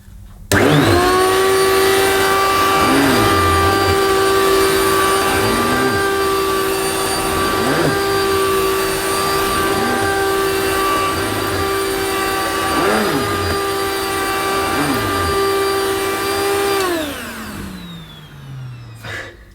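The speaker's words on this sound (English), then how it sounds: "we'll just see if that Filter Queen power head works better on this short pile carpet" Filter Queen Majestic Triple Crown vacuum cleaner with its power head running on short pile carpet, a loud steady whine with strong tonal harmonics and rhythmic pushes across the pile, winding down near the end.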